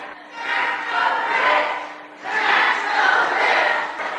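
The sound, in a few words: angry town hall crowd shouting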